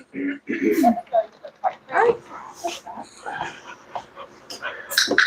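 Dogs pant and whimper close by, with quick breathy huffs and soft whines mixed with some yips throughout.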